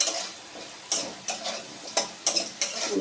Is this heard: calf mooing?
no